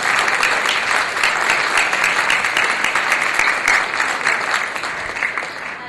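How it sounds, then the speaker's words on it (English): A large audience at a talk by a former FBI hostage negotiator claps steadily and loudly for several seconds, a dense continuous patter that tapers slightly at the end. "a big round of applause"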